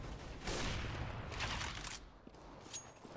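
Rapid bursts of gunfire from an online shooter video game, with dense crackling volleys filling the first two seconds and sparser shots trailing after, loud and continuous with no talking.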